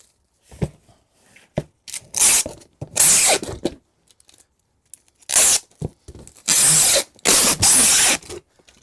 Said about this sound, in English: that box is all taped up.